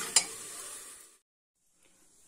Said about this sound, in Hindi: फटाफट से तड़का लगा के मैं सब्जी रेडी कर लेती हूँ